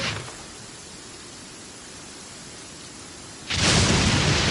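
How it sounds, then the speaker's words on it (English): Steady, dense rain hiss of a heavy downpour in the Genshin Impact video game, holding evenly before a louder surge of rushing rain near the end, with no voices. "Taking a stroll in the middle of a downpour certainly rouses the spirit."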